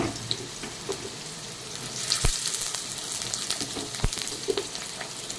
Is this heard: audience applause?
no